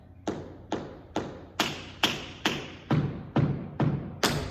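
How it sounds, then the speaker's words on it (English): Tap dance shoes strike the floor in a steady run of about ten crisp, evenly spaced taps grouped in a triplet feel, close and clear with no talking over them. "That sounds very different because suddenly you're tapping in a triplet."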